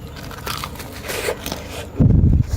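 Crisp bite into crunchy battered deep-fried eggplant, a short loud crackling crunch near the end after a stretch of quieter handling sounds, close to the mic.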